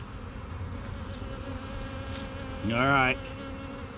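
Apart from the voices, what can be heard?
bees buzzing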